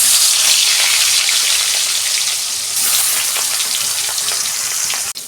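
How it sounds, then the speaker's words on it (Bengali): Fish fries in hot oil in a pan, giving a loud, steady, close sizzle that runs unbroken throughout with no voices. "তেল গরম হয়ে গেছে, আমি 2টো করে মাছ ভেজে নেব"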